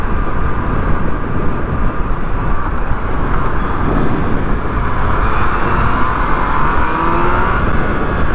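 A 2020 Yamaha MT-09 motorcycle engine runs hard on a test ride, a loud continuous engine roar mixed with rushing wind that holds steady throughout.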